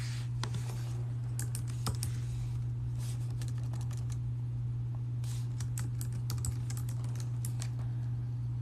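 Clicks of a computer keyboard as a short word is typed, light scattered keystrokes in small clusters over a steady low electrical hum, no voices.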